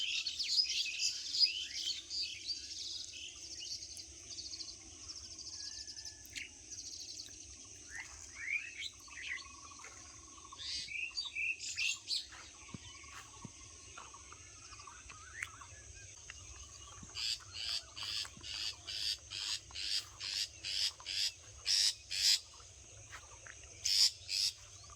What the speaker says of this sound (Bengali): কত সুন্দর পাখির ডাক